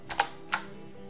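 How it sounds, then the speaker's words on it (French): A few computer keyboard key presses for a Shift+Ctrl+Down Arrow shortcut in Excel: two quick clicks close together, then one more after a short pause, crisp and close with no talking. "Le raccourci clavier nous demande 3 touches du clavier."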